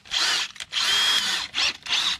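A power drill bores into metal during a track tension repair on an excavator, several close, loud bursts of whining drilling separated by brief pauses.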